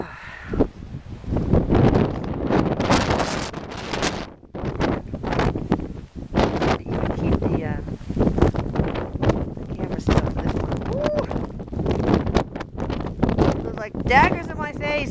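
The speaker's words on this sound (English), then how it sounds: "it is cold and blustery" A strong, cold wind blows on a blustery day in Norway, buffeting the microphone with loud, gusty roaring that rises and falls throughout, and a voice is faintly present under it.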